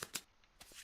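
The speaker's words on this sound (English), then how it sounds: "We don't really care, so let's just shuffle." A deck of cards for the Kingdom Death board game is shuffled, a few quick soft riffling bursts separated by brief pauses, close and quiet with no talk.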